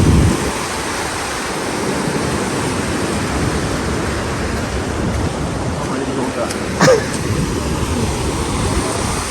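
Sea waves at Arugam Bay roll in as a steady, broad roar of surf, close and continuous throughout, with a brief louder splash near the end.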